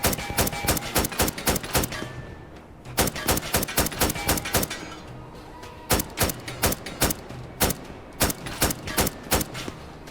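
Rapid rifle fire in the VR shooter Tactical Assault VR, sharp close gunshots in quick bursts with short pauses between volleys, loud and alone without talk.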